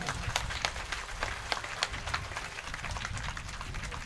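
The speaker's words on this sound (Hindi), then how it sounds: "एक बार जोरदार ताली बजनी" Listeners at a live Bhagavat katha clap together, producing uneven, fairly faint bursts of handclaps from a crowd at moderate distance.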